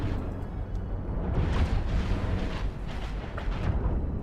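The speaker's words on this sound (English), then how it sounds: "the AI is now shooting the weapon systems" Ship weapon systems take fire in the space-combat game Cosmoteer, with a dense, continuous rumble of booms and blasts and sharper explosive bursts popping up throughout.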